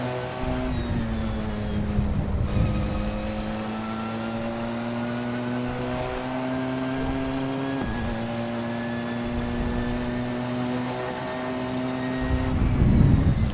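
A Porsche 919 Hybrid prototype race car at Le Mans roars loudly from close by, its engine note holding high and steady with brief dips at shifts and a swelling rush of noise near the end.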